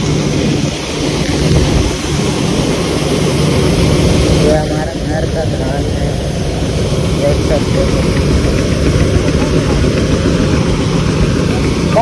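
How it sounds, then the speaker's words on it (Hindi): A combine harvester engine runs steadily in a farm field during light rain, a loud continuous low rumble with a constant drone, and someone talks over it briefly. "हमारे खेत में चल रहा है कॉम्बाइन"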